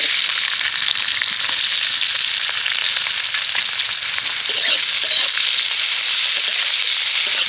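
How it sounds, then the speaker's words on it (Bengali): Dried red chilli and chopped onion frying in white oil in a kitchen pan, a loud, steady hiss and crackle of sizzling that runs unbroken with no voices. "একটা দিয়ে দিচ্ছি শুকনো লঙ্কা, একটু পেঁয়াজ কুচি"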